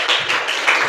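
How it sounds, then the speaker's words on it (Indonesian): Classroom applause from students for a group of classmates who just finished presenting, a dense burst of clapping with a few louder swells across a second. "Tepuk tangan untuk kelompok 1, nak."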